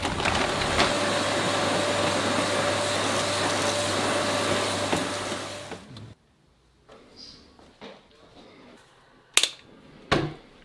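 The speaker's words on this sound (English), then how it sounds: "but first I need to hoover my car" A vacuum cleaner hoovering a car, a loud steady drone for about six seconds before it cuts off, followed by a few sharp knocks and clunks nearby.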